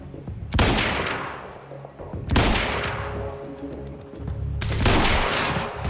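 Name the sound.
rifle gunfire in the video game Quantum Break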